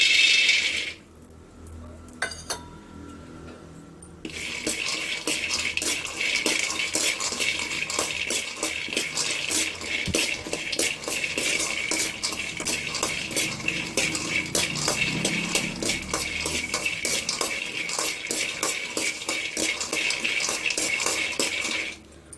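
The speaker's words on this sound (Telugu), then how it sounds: "దీన్ని ఒక్కడలో వేసుకొని వేయించుకోవాలి" Peanuts roast in a dry kadai over medium flame, rattling and clicking almost continuously as they are stirred, close and fairly loud, with a quieter gap near the start.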